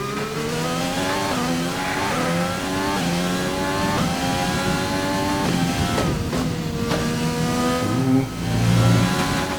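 A Formula 1 car in the F1 2020 racing game revs hard under aggressive driving, its engine tone climbing and dropping through repeated gear shifts, loud and continuous with a brief lift near the end.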